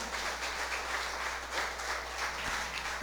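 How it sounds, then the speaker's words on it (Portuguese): Church congregation applauding during a Communion service, a steady dense wash of clapping that fills the whole stretch at moderate level with no voices on top. "Será que você pode aplaudir ao Senhor só mais um pouquinho?"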